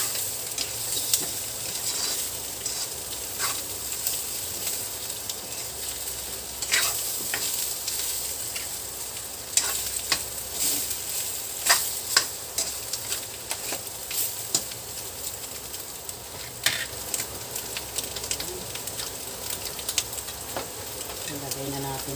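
Spareribs being stirred in a cooking pot, with a steady sizzling bed and scattered scraping and clinking of the spoon against the pot throughout, close and moderately loud, with no talking.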